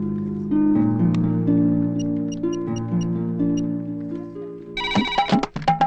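A telephone rings with a melodic electronic ringtone, a repeating tune of steady tones, followed by a few clicks and rattles as it is answered.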